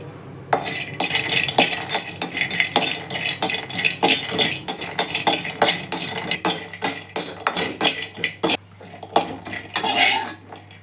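Cashews roast in a pan for a makhana baby-food mix, stirred with a metal spoon that scrapes and clinks repeatedly against the pan in a busy, close, uneven rhythm with no talk.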